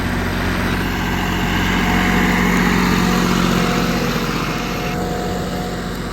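A tractor's diesel engine, converted from a rotary to an inline diesel pump, runs steadily nearby at about 1800 rpm with a constant low, throbbing hum, holding an even idle throughout with no voices.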